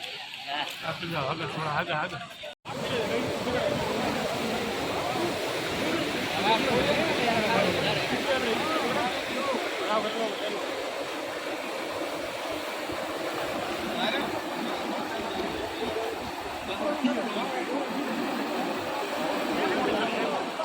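Floodwater surges through the Rel river at Dhanera, a loud, steady roar of rushing water that fills the whole stretch without a break.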